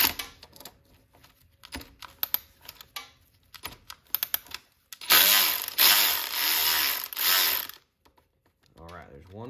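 A ratchet loosens a bolt on a motorcycle swing arm with a series of quick mechanical clicks, followed by a louder sustained burst of rapid ratcheting; the sound is close and clear.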